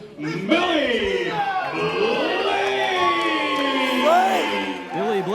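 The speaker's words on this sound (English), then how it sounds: "Billy Blaze not being received warmly by this crowd" A wrestling crowd at a Prime Time Wrestling show gives a muted, cool reaction to wrestler Billy Blaze, murmuring and calling out loudly under an announcer's voice that continues the whole time.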